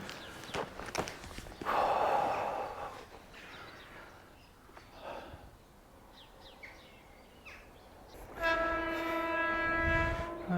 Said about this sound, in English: I can see the trains coming in both directions.